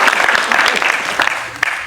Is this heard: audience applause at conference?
yes